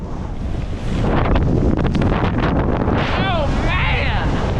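Strong gusting wind roars across the microphone while skiing in high winds, a loud continuous rush with brief whooshing surges and a faint voice near the end.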